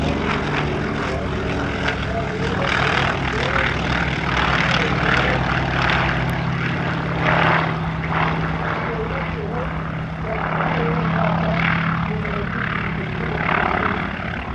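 A de Havilland DHC-4 Caribou, a twin piston-propeller transport, drones steadily overhead at an airshow in Shellharbour, its low engine hum sustained and fairly loud throughout with swelling and fading propeller buzz.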